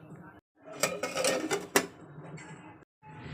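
A wok, plates and dishes being washed, with clattering ceramic and metal knocks in a short burst and a few softer rattles, close by, with brief pauses of silence.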